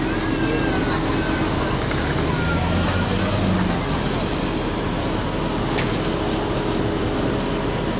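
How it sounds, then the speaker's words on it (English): Steady road traffic on a Brooklyn Chinatown street along 8th Avenue, with cars passing close by in a continuous loud wash of engine and tire noise. "Okay, we gotta wait for the cars."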